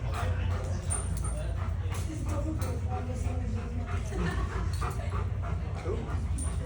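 Chase, a large police K9 dog, whimpers, yips and gives short barks and pants among a crowd, with people talking over the steady, close vocalizing.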